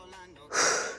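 A single forceful exhale during a strength workout, a sharp, breathy gust that bursts in halfway through and fades quickly, close and loud after faint background music.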